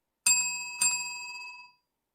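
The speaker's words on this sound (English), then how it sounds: "After 7 minutes and 30 seconds have passed, we'll ring the bell like this." A timing bell at a speech contest rings twice, two clear metallic strikes about half a second apart, each leaving a bright sustained ring that fades over about a second, with no other sound.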